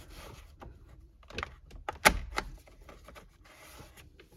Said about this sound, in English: This is just the claw right here that we have to detach and then pull it out like that.